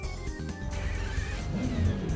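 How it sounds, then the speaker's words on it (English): Custom V12 engine of a car in the BeamNG driving game starting up and settling into a deep, rumbling idle with a rising rev near the end. "I think this car has a custom V12 sound to it as well"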